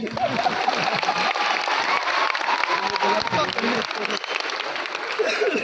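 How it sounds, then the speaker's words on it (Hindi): A large audience claps in a Delhi stadium hall at a motivational speech, dense steady applause running the whole stretch with crowd noise and some voices mixed in. "तो ताली बजा लो अपने लिए"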